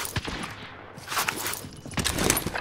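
Gunfire in a Call of Duty match, with scattered shots and short bursts at a moderate level, some nearer and some further off, and no talk over them.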